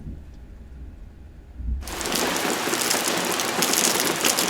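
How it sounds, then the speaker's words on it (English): A summertime popcorn thunderstorm breaks in abruptly after a quiet start, loud rain pouring down steadily with a thick rumbling wash that fills the rest of the clip. "Yep, a pretty typical summertime popcorn thunderstorm."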